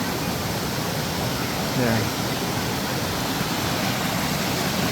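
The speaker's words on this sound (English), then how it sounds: "that's definitely the waterfalls here" A waterfall on Oahu, Hawaii, reached on a hike, gives a constant loud, broadband rushing roar throughout, with a brief spoken word barely rising above it.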